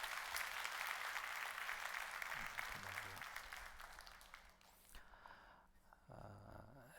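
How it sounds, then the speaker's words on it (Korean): Church congregation clapping during a Christmas afternoon worship service, a broad wash of applause that fades gradually, followed by quieter room sound and a brief voice near the end. "여러분 박수 다시 한번 해주셔요."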